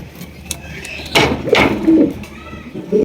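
A pair of dun-coloured Lahori pigeons coo softly with low throaty calls, mixed with rustling and a couple of brief knocks nearby, recorded close without talk.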